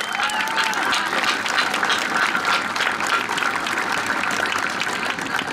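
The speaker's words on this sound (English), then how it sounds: "So how about a round of applause, please?" A crowd at a middle school graduation's class night applauds with full, continuous clapping from many hands, holding steady and loud for several seconds, with some cheering voices mixed in.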